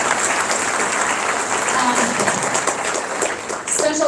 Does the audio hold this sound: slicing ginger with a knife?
no